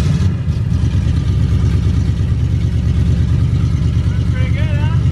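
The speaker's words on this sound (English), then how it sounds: "It idles better than the Camaro." A 1961 Ford F250 truck engine running loud and close with a steady rough idle rumble, a brief rev near the start, and a voice speaking over it.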